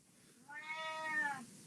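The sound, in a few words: cat meowing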